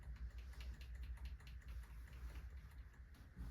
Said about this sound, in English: On your keyboard, hit the delete key to enter the BIOS setup.